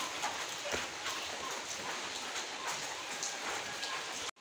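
Heavy rain pours down during flooding in Jorhat, Assam, making a dense, steady roar of close, loud hiss that continues unbroken with no talk and stops abruptly at the very end.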